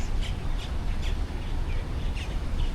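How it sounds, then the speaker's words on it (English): Birds chirp outdoors on a daytime outing: several short, bright tweets repeat about every half second, distant and fairly faint over a heavy rumble of wind and traffic noise. "Check out the birds."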